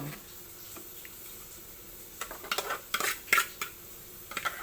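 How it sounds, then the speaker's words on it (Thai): A spoon clinks and scrapes against a bowl while canned fish is scooped in, a cluster of sharp metallic taps and scrapes in the second half after a quiet start, close by with no talking. "เอาปลากระป๋อง ใส่ถ้วยใส่ซ่านไปคุณย่ายกินนะคะ"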